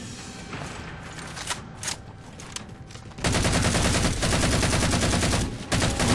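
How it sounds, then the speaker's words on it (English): Gunfire from shooting enemies in Halo 4, starting with scattered shots and mechanical clatter, then a loud sustained burst of rapid automatic fire with a brief break before it resumes. "I'm just shooting you guys and killing your friends"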